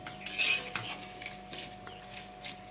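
A lid is set onto a cooking pot with a few light metallic clinks and scrapes, soft and close, followed by faint scattered clatter of kitchenware.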